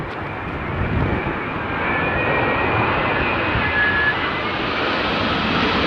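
A Gulf Air jet airliner of the Bahrain Royal Flight roars by close and loud, a dense broadband jet rush with a faint tonal whine that swells after the first second and then holds steady throughout.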